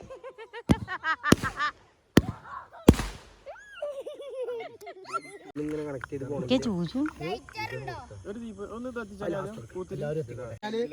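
A few sharp firecracker bangs pop at the start of a Vishu festival celebration, then people talk over crackling and scattered bursts.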